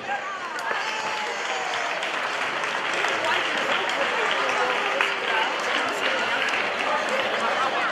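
Sustained applause from spectators fills the air at the award ceremony of the 2016 San Ireneo popular cross-country race in Valtierra. The clapping is dense, even and moderately loud from start to finish.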